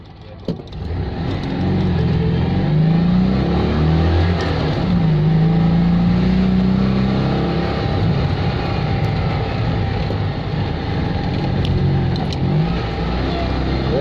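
A Citroen 2CV's small engine labours uphill in first gear, a steady close droning whine that holds its pitch for the whole stretch, with a faint voice briefly audible under the motor.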